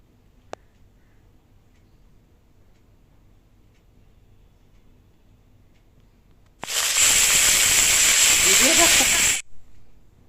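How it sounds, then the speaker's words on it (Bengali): Cut green banana, potato, carrot and drumstick tipped into hot oil for a festive-style shukto: after near quiet with one sharp tap, a sudden loud sizzling hiss erupts and holds for about three seconds, then cuts off abruptly. "সব কিছু একসাথে ঢেলে দিয়ে ভালো করে নেড়েচেড়ে এইগুলোকে ভেজে নেবো"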